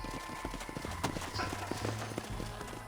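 Horses' hooves clip-clop steadily across hard ground in the Western video game Red Dead Redemption, several animals moving together at a walk under a low background rumble and faint voices.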